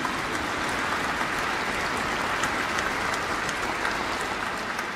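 An audience applauds after an organ concert inaugurating the Engler organ in the Basilica of St. Elizabeth, a dense, steady clapping that fills the reverberant space for the whole stretch.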